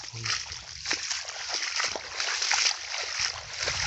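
Water from a motor pump pours steadily onto a berseem field, a continuous rushing splash that stays loud and even throughout, with a brief voice near the start.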